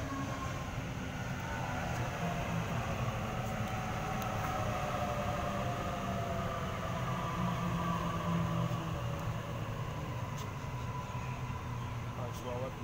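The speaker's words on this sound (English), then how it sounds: "I will see you when the next train approaches." A Sydney commuter train approaches the platform at Wentworthville station, producing a continuous, even rumble and hum that holds steady from start to finish.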